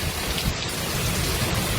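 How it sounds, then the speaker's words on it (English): Monsoon storm in Phoenix, Arizona, with heavy rain and strong winds, a loud, steady roar of downpour and gusts that fills the scene from start to finish without a break. "Here in the valley, strong winds and rain"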